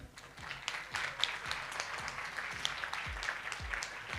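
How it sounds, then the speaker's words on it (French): A crowd applauds at a Relay for Life cancer charity fundraiser in Rixensart, giving sustained, moderately loud clapping, with a few sharper individual claps standing out over the continuous patter. "Je crois qu'on peut vraiment les applaudir."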